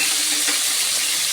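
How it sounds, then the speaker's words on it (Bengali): Bhetki fish frying in oil in a wok, giving a steady, close, broadband sizzling hiss with no talking. "কড়াই বসিয়ে দিয়েছি, আমি মাছটা ভেজে নেব। তেল দিয়ে দিলাম।"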